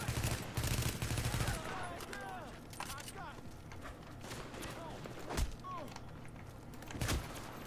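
Gunfire in a PvP match of the video game Tom Clancy's The Division, scattered shots and bursts crackling at moderate volume over a busy background.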